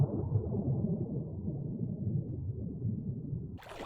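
A .22 firearm discharged underwater produces a deep, muffled rumbling boom that lingers as a low, dull roll for several seconds, ending in a brief sharp crackle.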